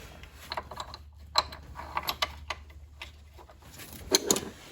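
A ratchet clicks in short, uneven bursts while tightening the 10 mm battery hold-down bolt on a Jeep Cherokee. The metallic ticking is close and fairly quiet over a low steady hum.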